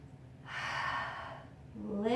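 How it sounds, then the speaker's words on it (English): A long, audible exhale during a yoga forward bend, close and soft, followed by the start of a voice. "Breathe through."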